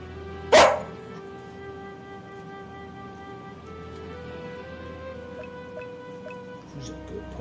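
A single short dog bark in a video game, sharp and close near the start, followed by a faint drawn-out whine over a low steady background hum.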